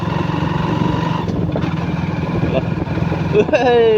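A motorcycle engine drones steadily throughout with a bit of speech over it, and a whining tone rises near the end; the chain keeps trying to jam.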